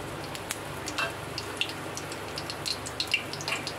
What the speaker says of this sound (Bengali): কড়ায় তেল দিয়ে দিলাম, তেজপাতা শুকনো লঙ্কাটা দিয়ে দিচ্ছি, ফোড়নগুলো দিয়ে দিলাম।